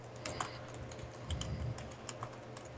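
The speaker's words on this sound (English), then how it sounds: "There's typing." Keys on a computer keyboard clatter in quick irregular bursts, fairly close and moderately loud over a steady low background hum, with no talking.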